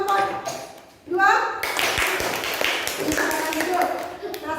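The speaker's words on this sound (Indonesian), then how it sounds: "Kasih tepuk tangan untuk kelompok 2." Classmates clap for group 2 during a primary school lesson on fractions, a brief burst of close, sharp hand taps with children's voices and teacher talk mixed in.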